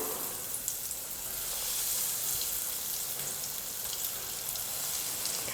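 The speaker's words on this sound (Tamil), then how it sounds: "ரெடி பண்ணியிருக்கிற உருளைக்கிழங்கு எடுத்து எண்ணெயில் போட்டுக்கிறேன்." Breadcrumb-coated potato snacks frying in hot oil give off a steady, dense sizzle that holds evenly close by, a continuous crackling hiss with no pauses.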